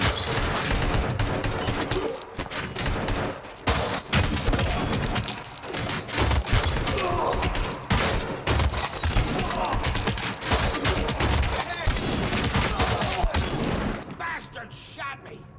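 Heavy sustained video-game gunfire, dense bursts of automatic fire and rattling shots loud and continuous for over a dozen seconds, with thuds and booms mixed in and a brief voice in the background.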